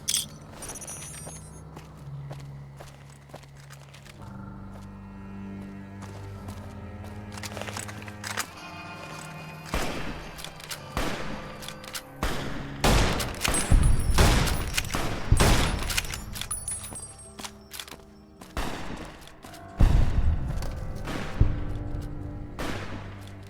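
Gunfire from the companion Boone in the video game Fallout: New Vegas: scattered shots build into dense, loud volleys of rapid bursts with sharp cracks and brief pauses between them.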